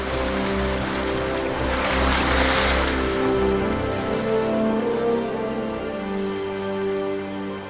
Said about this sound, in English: the strange sound of drifting river ice